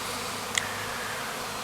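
A honeybee swarm hums as a steady, dense buzz outdoors near a bush, continuous and fairly close, with one brief click partway through.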